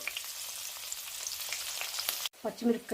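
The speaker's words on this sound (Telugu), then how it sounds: "అందులోనే కొంచెం కరివేపాకు వేసి ఫ్రై చేసుకోవాలి." Curry leaves and green chillies frying in hot oil for a beaten-rice mixture, a steady close crackling sizzle that cuts off abruptly near the end, followed by a brief clatter.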